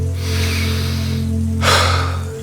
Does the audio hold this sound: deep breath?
yes